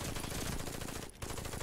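PPSh submachine gun from the game Warface firing in a sustained automatic burst, a dense continuous rattle of rapid shots that breaks off for a split second near the end and then resumes, loud and up close.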